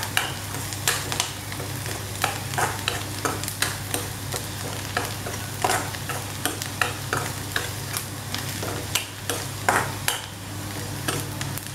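A spoon stirring and scraping egg fry with turmeric powder in a pan, with steady rhythmic clinks and scrapes over a continuous low sizzle of frying, close and clear without any talk.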